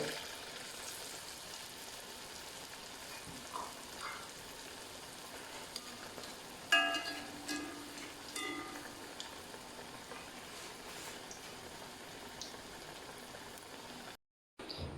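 Egg bajji, Kerala street-stall style, frying in hot oil: a low, steady sizzle that holds quietly throughout, with a few brief louder crackles midway.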